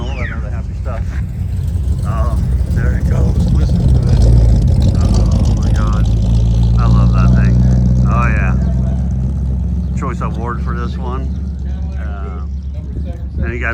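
A big-engined hot rod roars loudly and steadily at a Route 66 car event, its deep rumble swelling through the middle, while people talk excitedly over it.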